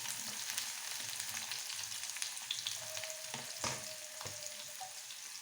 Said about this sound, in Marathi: कांदा लसूण आपल्याला चांगला लाल होईपर्यंत फ्राय करून घ्यायचं आहे.